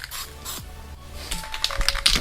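Aerosol spray paint hisses in short bursts onto a car's plastic trim and bumper during a Rustoleum versus Duplicolor test, light first passes with brief pauses and a few faint clicks between sprays.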